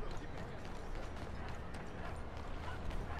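Horse hooves clip-clop in the video game Red Dead Redemption 2, a quick steady patter set inside a dense, noisy game soundscape that stays at a faint overall level.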